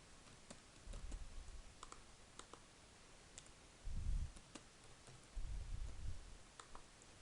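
A computer keyboard's tab key is tapped, giving a few faint, sharp clicks spread unevenly across a quiet room, with occasional low thumps in between.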